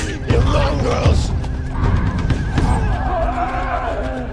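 Horses of mounted cavalry in a Viking battle scene, loud close neighing and whinnying over a dense rumble of hooves and commotion.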